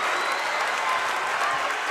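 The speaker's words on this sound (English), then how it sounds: "you can hear the Bison crowd loving what they're seeing" A home crowd cheers for the Buffalo Bison after a made three-pointer at a boys high school basketball section final against Moorhead. The applause and crowd noise form a loud, steady roar throughout, with no clear talk on top.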